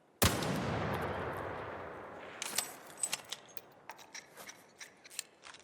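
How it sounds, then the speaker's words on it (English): A single loud, sharp bolt-action rifle shot with no attachments fires in ARC Raiders and rings out in a long decaying echo, followed by a scatter of faint distant cracks and clicks. "Alright, so first shot with no attachments."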